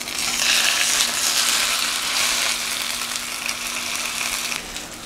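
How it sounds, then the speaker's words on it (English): Spiny lobster sautéing in a hot wok, a loud steady sizzle and crackle with brief surges as the pieces shift, no talking. "Now I'm gonna saute this in the wok"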